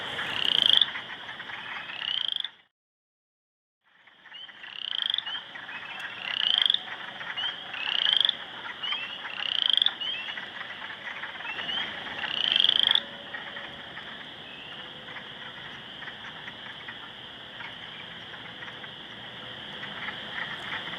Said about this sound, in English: I think there's a chorus frog down here in the dead leaf.